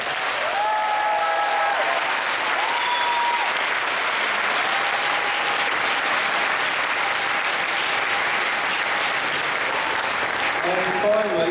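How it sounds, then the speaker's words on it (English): A big round of applause from a school conference audience, dense continuous clapping sustained for over ten seconds at strong, even volume, with faint whistles or voices threaded through. "we're going to give you one more big round of applause"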